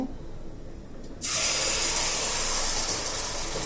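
Blended spice paste drops into hot oil in a pot on the stove, setting off an abrupt, loud, steady sizzle that begins after a quiet moment and continues strongly to the end.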